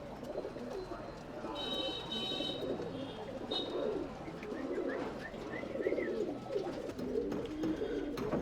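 Tumbler pigeons in a loft, many birds cooing together in a steady, murmuring throaty chorus near the listener, dotted with brief chirps, while someone talks quietly in the background.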